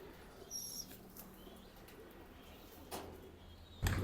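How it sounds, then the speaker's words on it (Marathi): Racing pigeons flap their wings on a rooftop in a few quick bursts, the last one loud and close, with quiet pauses in between. "आपण सोडलेले आहेत बाहेर कबूतर"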